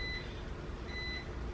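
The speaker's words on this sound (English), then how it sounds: "sorry for the beeping in the background, y'all. That's our air fryer." Two faint electronic beeps from an air fryer, spaced about a second apart, against a low background hum.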